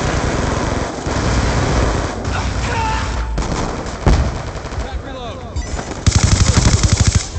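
Rapid gunfire bursts from a Black Ops 2 team deathmatch on the Carrier map, steady automatic fire with sharper rattling volleys near the end, loud and continuous with game effects mixed in.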